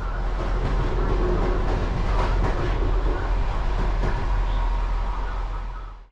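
A high-speed train runs at Białystok railway station beside a newly built platform, with a loud, steady, close rumble and faint clickety-clack that continues throughout before cutting off at the end.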